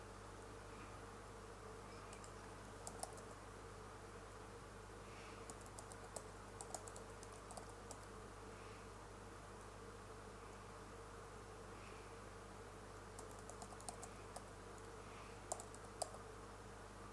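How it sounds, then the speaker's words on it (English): Keys tapped on a computer keyboard in scattered short bursts, quiet and close against a steady low electrical hum, with no talking. "let me type out the URL first"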